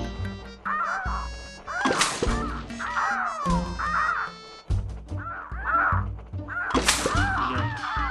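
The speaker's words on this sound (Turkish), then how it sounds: "Havada uçuyor martılar," Harsh, repeated seagull-like caws in Plants vs. Zombies 2, loud and close, overlapping in bursts across several seconds above a droning game soundtrack, with a couple of sharp noisy hits mixed in.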